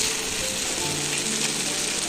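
Pointed gourd (potol) frying in a cooked spice paste, a steady close sizzle with light scraping and clinks from stirring, no voices.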